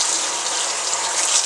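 Running tap water rinses soap from a paint brush in a steady, close, loud gush with no pauses.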